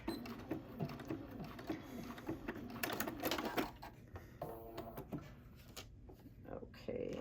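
Sewing machine putting the last stitches into a fabric hexagon pincushion, a few short close mechanical bursts and clicks mixed with fabric handling.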